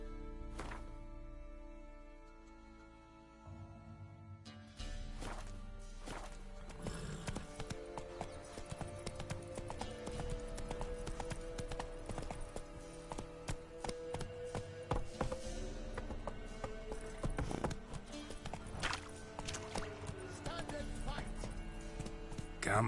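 Hoofbeats of Geralt's horse Roach clip-clopping in a steady galloping rhythm in The Witcher 3: Wild Hunt, loud and close under layered game music and ambience.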